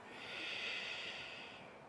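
Breathing out during a slow yoga flow, one long steady nasal exhale, close and soft, tapering off near the end.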